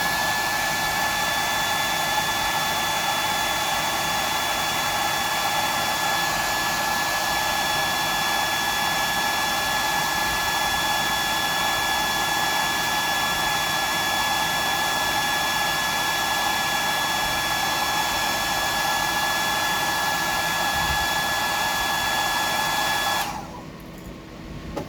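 A hair dryer blows steadily and loudly over freshly painted ice pick blanks, a constant whooshing drone that holds for over twenty seconds before cutting off near the end.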